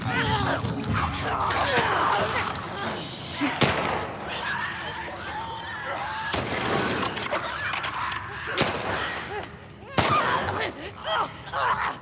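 Gunfire from The Last of Us Part II sounds as sharp shots and bursts over continuous game noise, some loud and near, spread through the stretch, with no spoken words.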